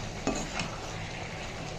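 Chili powder and spices sautéing and roasting in a pan, giving a steady soft sizzle with two brief scraping stirs near the start, fairly quiet and with no talk.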